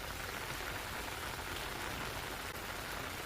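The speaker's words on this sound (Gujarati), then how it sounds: "ઉપલેટા ગ્રામ્ય વિસ્તારમાં પણ ભારે વરસાદ જોવા મળી રહ્યો છે।" Heavy rain pouring in the Upleta countryside of Gujarat, a dense, even hiss of falling water with no pauses and no voices, fairly quiet overall.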